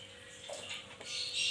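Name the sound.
ghee being poured into biryani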